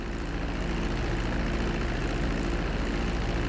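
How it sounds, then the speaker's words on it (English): Steady propeller airplane engine drone from a plane taxiing in Grand Theft Auto V, a continuous loud rumble with no breaks and no talk. "Now let's get the plane off the runway."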